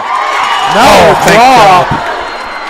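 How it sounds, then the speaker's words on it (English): Home crowd at a Blanchard high school playoff football game, Cache vs Blanchard 2023, swelling into loud cheering and whoops for about a second under a play-by-play announcer's steady talk. "hear the Blanchard crowd"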